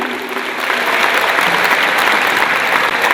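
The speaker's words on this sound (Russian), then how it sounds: "Проводим аплодисментами." Sustained audience applause at an awards concert, dense and steady throughout after a brief swell at the start, loud and close with no voices on top.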